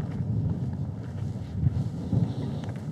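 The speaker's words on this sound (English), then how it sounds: "the wind's picking up" Strong cold wind buffeting a microphone outdoors near abandoned cars, a loud rumbling, gusting roar with no talk.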